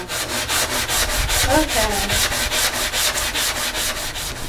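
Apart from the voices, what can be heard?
sanding a second-hand wooden table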